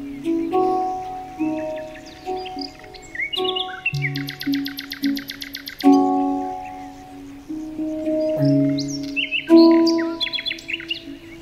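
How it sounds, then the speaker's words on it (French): Songbirds chirp and trill outdoors, with a bright rapid trill standing out midway, set over steady tonal music that continues throughout. "des oiseaux gazouilleurs"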